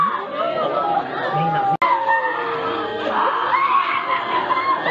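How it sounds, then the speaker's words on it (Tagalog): Barangay Dumadalig residents in South Cotabato cry and shout after a deadly shooting, a dense, loud tangle of wailing, screaming and agitated voices layered over one another throughout. "Sa video, maririnig ang iyakan at sigawan ng mga residente ng barangay Dumadalig."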